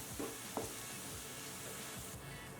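Cumin powder and garam masala sizzling in a pan over a low gas flame for sweet corn masala curry, a steady soft frying hiss with faint stirring scrapes and no talk.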